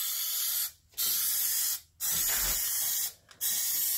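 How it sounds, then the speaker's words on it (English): Short bursts from a precise-nozzle aerosol spray can, three hissing sprays separated by brief pauses, close and fairly loud with no talk. "It is kind of a precise spray, and it even says precise."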